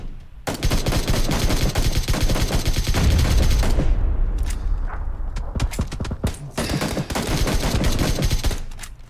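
AK rifle fire in the PUBG battle royale game, rapid bursts of loud, close automatic shots in sustained strings with a short lull before more volleys, heavy and cracking throughout.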